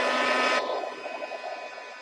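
A hair dryer blows on a mixed media craft envelope decorated with sprays and lace, a steady close broadband whoosh that drops slightly in pitch and loudness partway through, with no talking.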